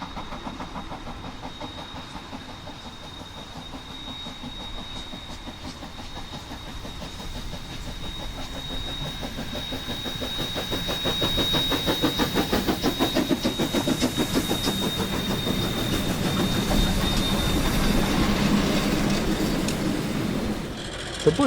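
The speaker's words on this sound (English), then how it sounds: "JA 1271 getting the train underway from Levin." JA 1271 steam locomotive pulling a train away from Levin, its rhythmic chuffing and mechanical clatter growing louder and quicker as it gathers speed, with a faint high whine running throughout.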